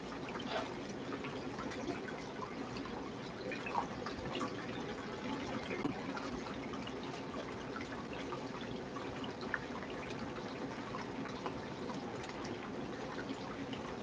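Water from a pump flowing over a wave mat, a steady, faint trickling wash with small drips, continuous and even throughout.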